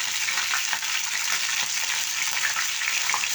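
Tomatoes being added to onions frying in a pan, a close, steady crackling sizzle that fills the moment with no voices.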